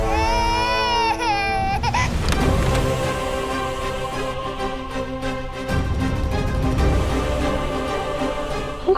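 A young girl cries loudly and continuously nearby, wailing with rising and falling sobs, while music plays in the background.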